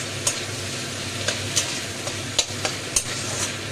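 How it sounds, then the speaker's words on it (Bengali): Cashews, melon seeds and four green chillies fry in hot oil for paneer butter masala, a steady close sizzle with occasional sharp pops and the scrape of a stirring spoon, no voices over it. "তেলে এটা ভেজে নিচ্ছি"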